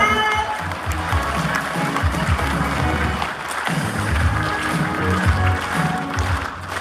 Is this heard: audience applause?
yes